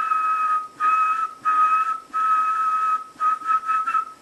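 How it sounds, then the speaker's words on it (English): A steady, clear whistle into a dynamic microphone on an op-amp amplifier test bench, held in pulses with short breaks between them, near and alone with no talk. "we should get about 4 volts peak to peak when I do a whistle test"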